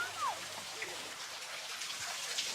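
Water trickles and flows at a sacred spring in Dogon country, Mali, as a faint, continuous splashing hiss with a couple of tiny chirps over it.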